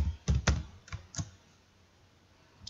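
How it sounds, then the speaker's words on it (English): A few quick keystrokes on a computer keyboard, close and crisp, clustered in the first second and a half, followed by quiet and one last tap. "Then you're gonna type in lines."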